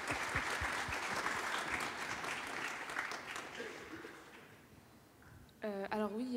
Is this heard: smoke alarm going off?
no